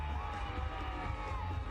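A field hockey crowd roars with cheering and applause after a goal at a Hero Hockey India League 2026 men's match between Dragons and Toofans, a dense, steady din throughout.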